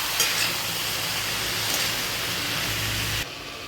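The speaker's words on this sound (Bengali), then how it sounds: "সেদ্ধ করা মোচাটা দিয়ে দেবো। এটা দিয়ে ভালো করে কষাবো।" Boiled banana flower being stirred and sautéed with spices in a pan, a steady broadband sizzle with soft scraping that holds evenly for about three seconds before dropping abruptly to a quieter hiss.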